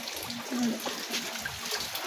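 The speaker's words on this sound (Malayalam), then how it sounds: "നല്ല മഴ കേട്ടോ" Heavy rain falling steadily outdoors among houses, with a nearby waterfall, gives a dense, even wash of water noise with faint trickling throughout.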